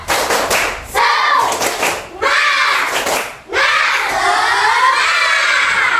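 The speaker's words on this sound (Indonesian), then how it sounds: "mari kita tepuk semangat" A classroom of children does a rhythmic spirit clap, bursts of clapping and shouted chanting in several waves, loud and close, with a teacher's voice briefly between them.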